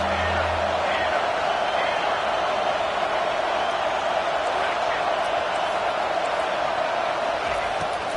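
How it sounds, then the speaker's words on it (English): A football stadium crowd at a West Virginia versus Tulane game keeps up a constant, loud, dense roar throughout, with a low voice briefly audible at the start. "This crowd trying to make life miserable for this offense."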